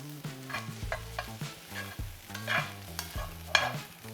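Mushrooms frying until crispy and golden in a hot skillet for a spicy udon noodle dish, with steady sizzling, a rhythmic series of stirring scrapes and clanks, and a sharper metallic knock near the end.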